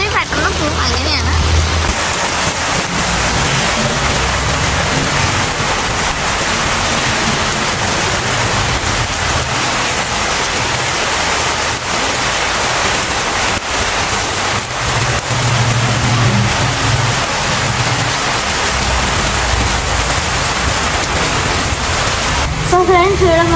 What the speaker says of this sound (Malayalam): ഗൈസ് മഴ നല്ലതായിട്ട് കൂടുന്നുണ്ട്.